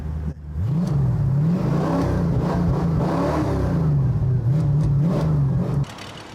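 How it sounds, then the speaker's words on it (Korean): Classic car with natural exhaust note, heard from behind, holding a steady droning engine rumble with slight rises and falls in pitch for several seconds before cutting off near the end. "그 엔진 소리가 요즘 나오는 자동차하고 다른 느낌의 그런 엔진 소리가 들릴 거예요"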